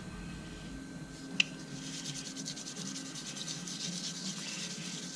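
Steady rubbing scrape of sandpaper worked back and forth over a worn mod surface, moving through successive grits; close, continuous and fairly soft, with one brief tap near the start and no talking.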